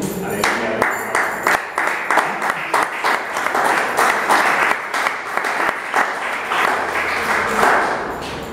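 A congregation at a faith school session breaks into applause, many hands clapping in a dense, sustained burst that holds loud throughout before easing slightly at the end.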